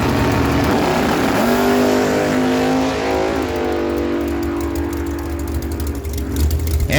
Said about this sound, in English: bringing in the Ford Mustang, 632 cubic inch big block power, Ford power. Doug Forbes out of Douglas, bringing in the blown alcohol dragster on the right side